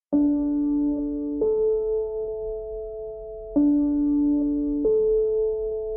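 Two sustained sampled piano notes alternate in an Ableton sampler, the pair played twice, clean and clear with long ringing decays and no talking.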